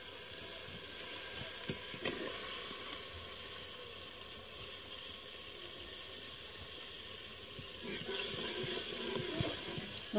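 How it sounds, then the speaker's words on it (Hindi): Mustard greens for sarson ka saag frying in a pan, a steady sizzle and hiss with occasional stirring scrapes, heard up close with no talking. "हर इसे अच्छी तरह फ्राई कर लेंगे"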